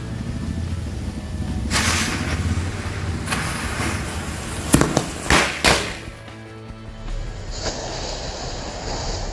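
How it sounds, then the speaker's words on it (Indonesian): Tank-style firecrackers go off outdoors, two lit together: a rough hissing fizz builds, then several sharp cracking bursts pop in quick succession before a quieter hiss and steady background noise. "Itu dia hasilnya dari mercon tank."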